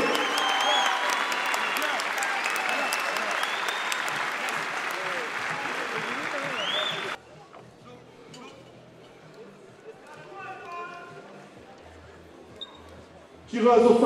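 Spectators at a savate boxing bout applaud the fighters loudly for about seven seconds amid crowd chatter, then the hall drops to quiet murmuring before another short burst of noise at the very end.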